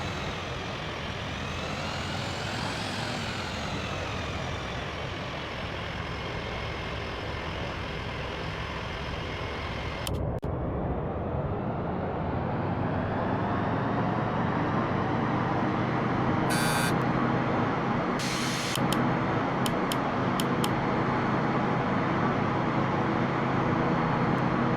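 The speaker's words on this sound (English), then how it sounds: "Cabin crew, prepare for takeoff." A Binter Canarias ATR 72 turboprop airplane spools up to a loud, steady drone heard from inside the cabin, the engine roar rising and holding as it accelerates for takeoff, with brief cabin chimes.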